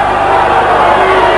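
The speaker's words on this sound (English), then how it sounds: "Crowd getting a little more into the fight." Crowd noise at a boxing match, a steady loud roar from a packed arena filling the whole moment with no breaks.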